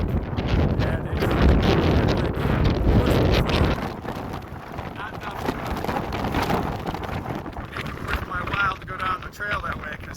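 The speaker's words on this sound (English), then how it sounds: "how high the wind is right now" Strong wind roaring over a desert trail south of Tehachapi, buffeting the microphone in heavy gusts, loudest early on, with a person talking over it.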